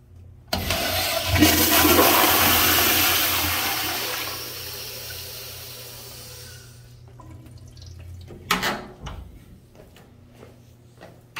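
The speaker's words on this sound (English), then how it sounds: "the flushometer is way too short flushing" A 1999 FV Briggs toilet with a flushometer valve flushes in an office building restroom, opening with a sharp rush of water that peaks early, tapers into a fading refill trickle, then a few brief clunks and splashes near the end.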